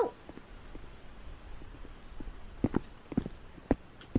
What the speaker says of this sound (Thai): เสียงฝีเท้า